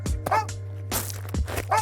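A dog barks several times in quick, uneven bursts, close and fairly loud, over a steady low hum.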